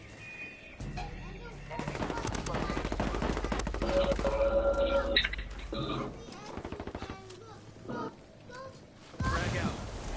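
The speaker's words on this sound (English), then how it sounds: "I'm under heavy fire." Heavy gunfire in the video game Ghost Recon Wildlands: dense rattling bursts of automatic fire and shots close by, with pauses and a later burst, under intermittent voice chatter.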